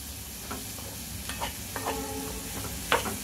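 Onion is sautéed in a pan for poha, with a low steady sizzle and several soft scrapes and taps of the spatula, heard close and quiet with no talk.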